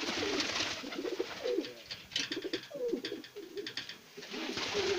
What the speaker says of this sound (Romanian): Acum am băgat alți porumbei, pentru că ăla s-a împerecheat cu asta.